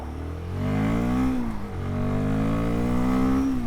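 A 2025 Royal Enfield Guerrilla 450 motorcycle accelerating on a country road, the engine note climbing steadily through a gear, a brief dip at the shift, then rising again, loud and close with wind rush.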